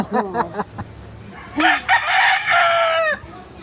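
A rooster crows loudly and close by, with a few sharp clucks first and then one long, drawn-out cock-a-doodle-doo that stands alone.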